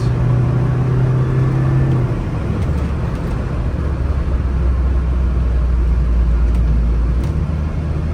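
A turbocharged car accelerating, heard as a loud, steady low engine rumble that builds slightly as boost comes on, with no talking.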